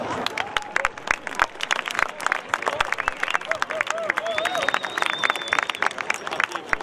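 Audience at the Donaufest closing speech in Ulm and Neu-Ulm breaks into sustained applause, a dense steady patter of many hands clapping with scattered voices and a whistle rising above it.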